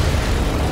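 A loud, sustained explosion blast in Resident Evil 6 on PC, a dense rumbling boom filling the whole moment with no voices over it.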